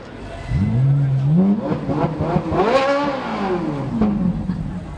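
A Campagna T-Rex 14R revs hard and accelerates, its engine note climbing, dipping and climbing again in loud, close sweeps with no talking over it.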